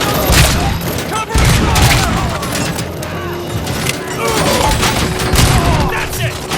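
Sustained gunfire bursts and heavy impacts in the RoboCop Rogue City video game, loud and continuous with booms and crashes, under shouted voices.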